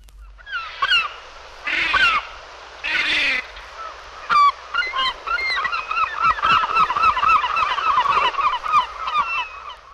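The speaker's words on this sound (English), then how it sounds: "Page 111, herring gull." Herring gull calls, a few drawn-out squealing cries followed by a rapid, laughing series of sharp repeated notes, loud and close with no other sounds.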